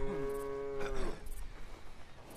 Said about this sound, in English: let's milk a cow.